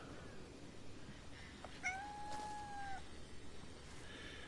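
In the video game Crimson Desert, a cat lets out one long, clear meow with a slightly strained, wailing edge, heard alone over quiet background game ambience.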